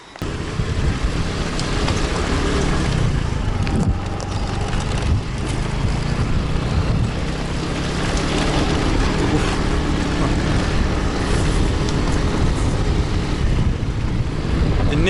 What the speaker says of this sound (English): So now we will just go by moped.